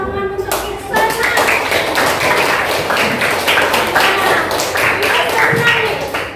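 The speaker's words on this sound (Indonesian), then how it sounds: "Beri tepuk tangan untuk Ihsan." Students in a classroom clap for a classmate, a brisk burst of hand claps close by with sharp individual taps and bumps, a voice briefly sounding near the end.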